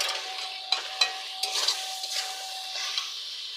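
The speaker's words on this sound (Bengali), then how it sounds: "চিনি দিয়ে আমি আবার ভালো করে 5 মিনিট কষিয়ে নেব।" Chicken curry spices with salt, cumin powder and coriander powder frying in a pan while being stirred, a steady close sizzle broken by a few sharp scrapes and knocks of the spoon against the pan, with no talking.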